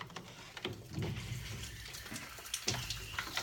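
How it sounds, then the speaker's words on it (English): Water pours and sprays out under pressure as a household water filter housing is opened for replacement in a farmhouse. The gushing and splashing comes in uneven bursts, close and moderately loud, with no talk. "There's going to be some water that's going to pour out of this."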